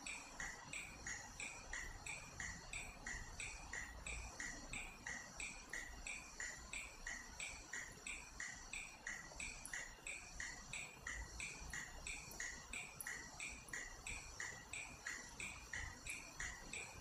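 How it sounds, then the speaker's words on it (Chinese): Cicadas chirping in a dense, rapid pulsing drone that repeats evenly throughout, steady and continuous at moderate distance with no voices. "蝉鸣声也很大"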